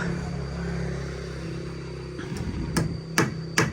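Nails hammered during construction work, with three sharp, close strikes landing near the end over a steady low background rumble.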